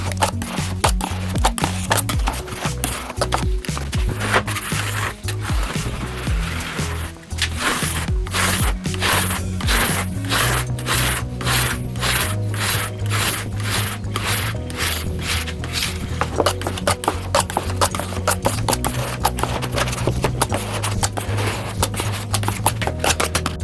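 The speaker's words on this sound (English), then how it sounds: "we'll just scrape it off into this drywall container so we can discard it after it is dried" Old finish goop being scraped off an oak table into a drywall container, a continuous rhythmic rasping scrape of steady strokes, close and loud, with a low mechanical hum underneath.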